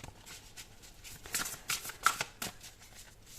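Thick, oversized tarot cards shuffled by hand, a soft papery riffle of several quick bursts that grow denser in the middle, close and fairly quiet with no voices.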